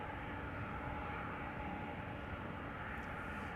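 KLM flight 1959 to Istanbul taking off from runway 24 at Amsterdam Schiphol, a steady distant jet engine roar with low rumble, continuous and without talk.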